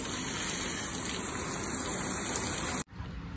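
Strong spray of water rinsing a freshly collected orchid in its pot, a steady loud gushing hiss that runs without a break and then cuts off abruptly near the end.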